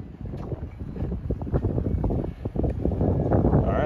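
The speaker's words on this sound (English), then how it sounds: "It's a very windy day." Strong wind gusting around 30 to 33 mph buffets the microphone in rough, low rumbling gusts, rising and falling continuously with no voices.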